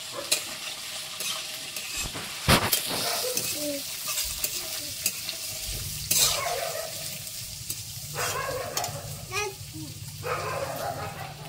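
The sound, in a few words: peanuts and chopped potatoes frying and being stirred in pan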